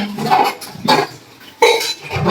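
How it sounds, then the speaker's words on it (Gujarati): A mother scrubbing dishes, pots and pans: close, loud metallic clinks and scraping rubs in uneven bursts, with steel vessels knocking together between strokes. "મમ્મી વાસણ ઘસે છે"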